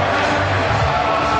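Stadium crowd erupting into a loud, sustained roar after Jesse Lingard scores for Manchester United against Real Madrid, a dense wall of cheering that stays steady throughout.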